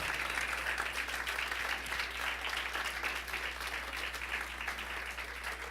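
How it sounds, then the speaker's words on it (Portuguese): Church congregation applauding, dense, steady clapping from many hands that holds at a constant level throughout. "Você pode aplaudir a Deus por esses irmãos?"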